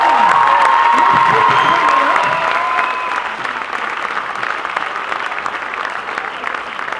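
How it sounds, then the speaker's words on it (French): Audience at a school circus and theatre show at a lycée breaks into loud, sustained applause with cheering and high whoops, the clapping staying dense throughout and easing slightly toward the end. "on va remercier avec de chaleureux applaudissements"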